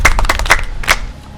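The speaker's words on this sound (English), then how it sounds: "Clap for her." Classroom pupils clap for a student who answered correctly, a quick burst of several loud, close, sharp claps that thins out and stops within a second.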